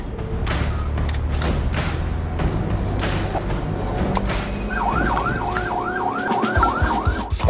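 A wailing police car siren rises and falls in quick repeated cycles over loud road and engine noise in the second half.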